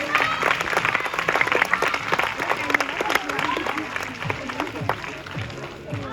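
A crowd at a sea lion show at the Plaisance-du-Touch zoo applauds loudly and steadily, with crisp clapping throughout and a voice talking over it.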